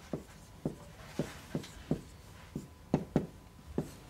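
A matrix equation is written out by hand: about ten short, rhythmic strokes tap and scratch in a steady sequence, close and fairly quiet, with no voice.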